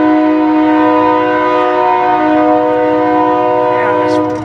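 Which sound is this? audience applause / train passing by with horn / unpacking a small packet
train passing by with horn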